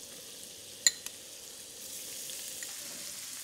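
Butter and chopped onion sweat gently in a pan, giving a faint, soft, steady sizzle after a single sharp clink of a utensil near the start.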